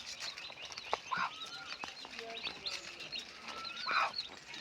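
Soft, high chirps and peeps from chicks with a brooding hen, scattered and fairly close, with occasional low clucks in a quiet setting.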